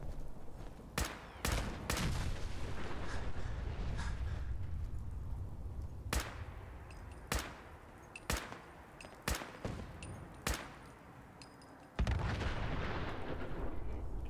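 Explosions in the video game Fallout 4 boom out in a series of sharp, loud blasts at irregular intervals, each dying away over a rumbling, noisy background.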